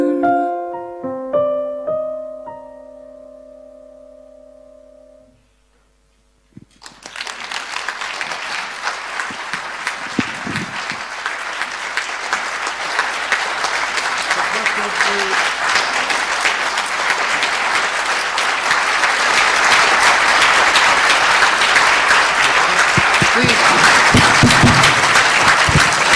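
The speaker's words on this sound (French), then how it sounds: "Je crois qu'on peut applaudir les artistes pour cette soirée" After a few sustained instrumental notes fade to a brief silence, an audience breaks into loud, sustained applause for the performers at an evening event, swelling steadily and continuing to the end.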